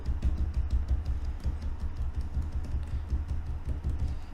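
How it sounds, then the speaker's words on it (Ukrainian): Steady rapid knocks on a tabletop picked up by an RGB streaming microphone under test, close and soft, tapping continuously in an even rhythm with no voices. "І так, зараз я стукаю по столу."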